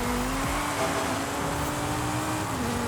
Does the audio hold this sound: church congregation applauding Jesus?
no